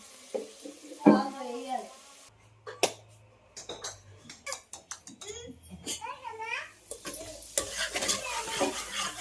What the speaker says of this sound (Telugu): టమాటాలు కూడా వేసేసుకొని మొత్తం మసాలా తిప్పేసుకున్నాం.